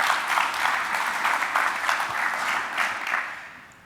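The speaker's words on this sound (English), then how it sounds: "A round of applause for all of you for just being here." An audience at a keynote talk applauds steadily, a dense wash of clapping that holds for a few seconds and then begins to fade.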